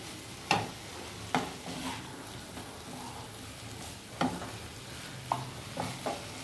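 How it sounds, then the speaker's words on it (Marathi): A cauliflower, pea and carrot vegetable mix with black masala being stirred in a pan, giving a faint steady sizzle and several sharp spoon scrapes and taps at irregular intervals, close and quiet, with no talk. "तर व्यवस्थित परतवून त्याच्यावर आपण झाकण ठेवूया."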